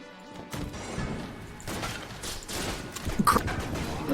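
An explosion in the Enter the Gungeon video game comes as a burst of crashing, smashing impacts over rapid gunfire-like clatter, busy and loud for several seconds.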